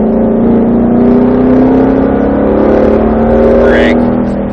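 Racing video game Ford GT500 under light throttle, a continuous loud engine hum with gradually rising pitch, topped by a short upward whine near the end.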